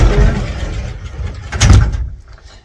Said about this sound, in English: Oh, by the way, this is pocket door. So you can close off the bedroom.